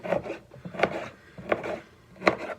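A knife dices food on a wooden cutting board in four separate, fairly loud cuts with scraping and knocking, spaced roughly evenly and close up.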